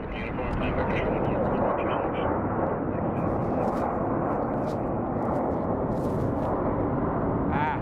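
A Boeing 737 MAX airliner arriving from New York JFK at Phoenix Sky Harbor airport gives a steady, loud broadband jet roar that holds throughout without fading.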